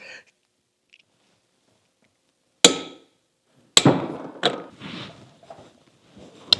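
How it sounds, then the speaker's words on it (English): Hammer blows bending a lock tab against the outer jam nut on a Dana 27 front axle wheel bearing assembly of a Scout: a few sharp metallic strikes, close and loud, separated by short pauses. "I'm bending the lock tab. This is the lock tab that came with this axle."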